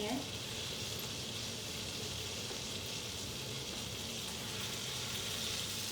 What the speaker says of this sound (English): So as the salmon is sauteing with the garlic butter